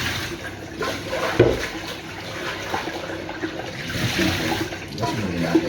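Vegetables for pakbet being washed under running tap water, an uneven splashing trickle with brief louder splashes and handling noises, no talking.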